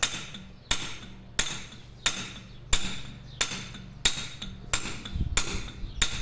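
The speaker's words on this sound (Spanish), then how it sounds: "En este caso estamos utilizando el golpe de cantero, no apretamos el cincel, no apretamos la maceta, colocamos y simplemente golpeamos" A mallet strikes a stone-carving chisel in the stonemason's blow, nine sharp, ringing hits at an even rhythm of about one per second, loud and close with no talking.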